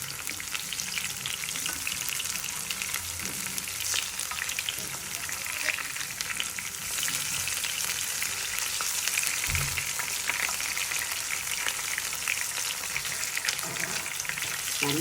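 Food sizzles and fries steadily in a hot pan, giving a dense, continuous crackle with small pops and occasional stirring, close and fairly loud throughout with no talking.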